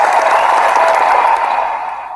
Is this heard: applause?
yes